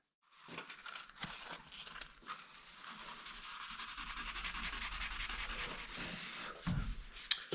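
Hand sanding with fine-grit sandpaper, working up through 320, 400 and 600 grit as preparation for painting: a steady rasping scrub of repeated strokes, close and fairly quiet, building slightly louder over several seconds with no talking.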